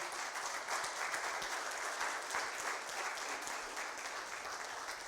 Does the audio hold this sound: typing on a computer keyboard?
no